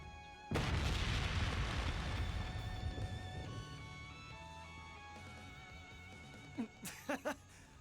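Explosions from the Ungula barrage attack in the game Trails Beyond the Horizon: a sudden loud booming blast that rumbles and slowly decays under game music, followed by a few short sharp pops near the end.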